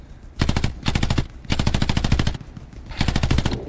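Machine-gun fire in the World War II shooter Hell Let Loose: long rapid bursts, loud and close, separated by brief pauses, with no talk over them.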